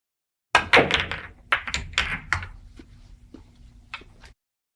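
Virtual Pool game sounds: a cue strikes and several pool balls knock together and drop into pockets in quick, hard clacks, first in a cluster and then in a few sparse, fading taps.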